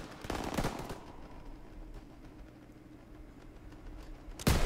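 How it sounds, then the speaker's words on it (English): Machine gun fire in the Call of Duty WW2 campaign, a steady rattling of distant gunfire and battle noise running throughout, with a sharper, louder burst near the end. "MGs, open fire."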